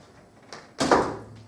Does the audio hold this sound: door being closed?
yes